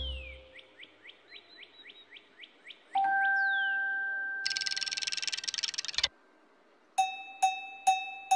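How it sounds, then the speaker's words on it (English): A chiming home time bell from the children's programme In the Night Garden rings out alongside rising chirpy whistles, a sustained tone and a rattling shimmer, ending with four evenly spaced bright dings standing clearly alone. "The home time bell."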